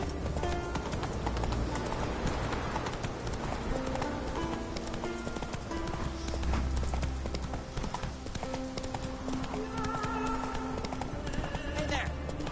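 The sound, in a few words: horse Roach galloping, from video game (The Witcher 3)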